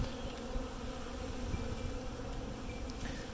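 Honeybees buzz around a hive frame being lowered into a beehive, a dense, continuous hum from many bees close by, steady and quiet, with no talk.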